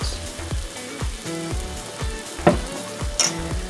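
Shrimp frying in a pan with garlic powder and salt, a steady close sizzle broken by repeated scraping strokes of a utensil being stirred through, about six rhythmic stirs with a couple of sharper clinks.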